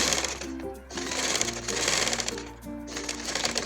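A domestic sewing machine stitches piping in fabric, a steady close whirring rattle of the needle mechanism that slows briefly twice before picking up again.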